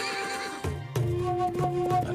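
A horse neighing in a loud, shrill whinny that rises and wavers for about two seconds, close and clear.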